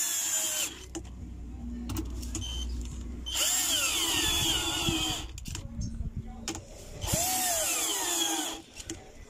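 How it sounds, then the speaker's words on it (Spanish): Cordless drill driving screws into an LG front-load washing machine during a seal and bearing repair, in several loud whirring bursts that rise in pitch, close by, with brief pauses between runs. "con nuestro taladro más rápido vamos a atornillarlos."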